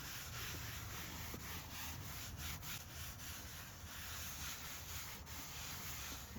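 Steady rubbing and scrubbing over muddy leather car seats, a soft continuous brushing texture at an even level throughout, with no talking.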